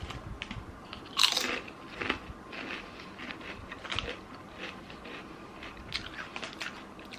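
Crunchy bites into Lay's cheese-flavoured potato chips, a sharp loud crunch near the start followed by several softer chewing crunches spread through the rest, close up with no talking.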